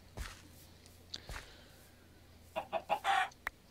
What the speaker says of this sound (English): Is it because this chicken's here?